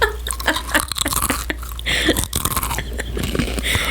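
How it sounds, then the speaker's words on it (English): Pringles potato chips being crunched close up, a quick series of crisp bites and chewing sounds, loud and intimate, with a little background talk. "we really like to eat Pringles when we record"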